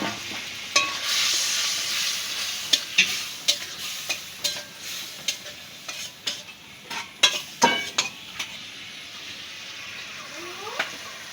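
Hilsa fish head frying in a pan with freshly picked greens, a steady sizzle broken by a run of sharp spatula scrapes and stirring clatters close by, with no talk.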